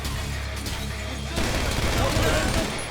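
Burst of gunfire in a GTA shootout, dense continuous shots layered over game ambience, with the rattle growing louder and busier partway through.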